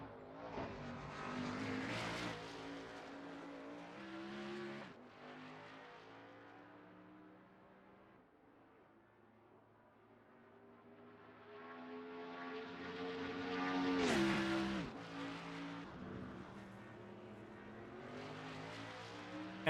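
Race car engines scream through a sim racing video game race at Road America, one engine rising and falling in pitch as it climbs through gears, eases off, then revs hard again, with no one talking.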